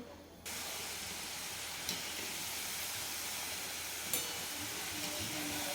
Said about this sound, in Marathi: आता मी दुसरी पण आणखी एक बॅच तळून घेते